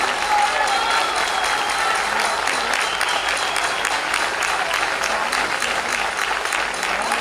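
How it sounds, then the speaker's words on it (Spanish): Sustained applause from a crowd at a folk dance group's event in Torrelavega, Cantabria, steady and dense throughout with no break, dominating the scene. "un fortísimo aplauso, que lo sientan"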